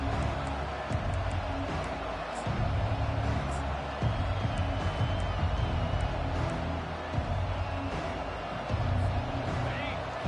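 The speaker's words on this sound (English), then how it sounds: "This crowd bringing an ear-splitting welcome to their visitors." A stadium crowd at a football game roars and cheers loudly, a dense sustained wall of noise with swells and bursts, with a commentator talking over it.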